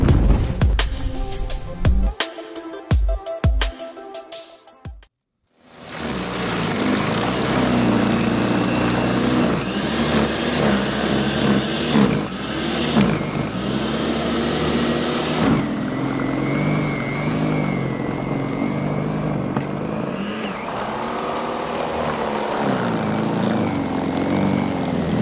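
Greenworks 120 volt 13 amp electric snow blower clearing snow, a few clanks at first, then a loud steady motor drone that keeps running for about twenty seconds.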